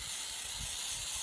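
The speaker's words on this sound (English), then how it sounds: "I'm seeing that short bursts work much better than the even spray that I normally like to do with spray paint." Spray paint hisses from an aerosol can onto pottery, one close, continuous airy hiss lasting just over a second with no talking.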